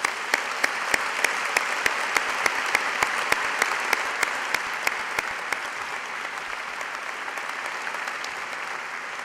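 A graduation audience applauds physics graduates at an Imperial College postgraduate ceremony, a sustained, even roar of clapping with sharp louder claps ticking through it at a regular rhythm, fading slightly near the end.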